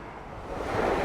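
Surf breaks on the beach at Half Moon Cay in the Bahamas, a soft, steady wash of waves that swells slightly louder toward the end, with some wind across the microphone and no talking.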